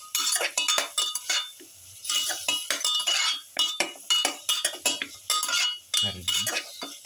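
Spiced lamb pieces, seasoned with pepper and garlic, get mixed thoroughly in a pan: a steady run of metallic clinks and scrapes from the utensil, close and fairly loud, with no talking.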